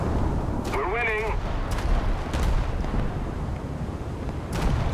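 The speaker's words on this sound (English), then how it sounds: "Paris is shooting at me now." Naval gunfire in World of Warships, heavy booming salvos rolling under constant battle noise, with a voice talking over parts of it.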